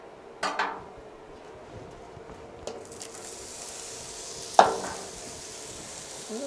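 Food sautéing in a pan outdoors at dusk while a blue cheese burger is made, with scattered stirring scrapes and a few sharp utensil knocks over a soft, steady sizzle.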